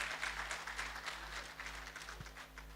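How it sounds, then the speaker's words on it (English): Faint, steady applause from a seated audience at a formal roundtable event, even clapping heard from a distance with a low background hum. "Please put your hands together for him."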